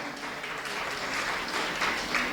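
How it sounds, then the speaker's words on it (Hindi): An audience at a Jain religious ceremony, the Siddh Chakra Mahamandal Vidhan in Gairatganj, claps in a steady, dense wash of applause that holds evenly throughout, fairly close and with no talk over it. "ये ताली कम का बजाई तुम लोगों ने"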